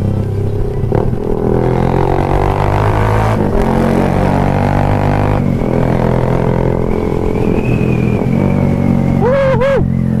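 A Sniper 150 FI motorcycle engine revs loudly through its muffler, rising and falling in several strong bursts and ending with a sharp climbing rev near the close.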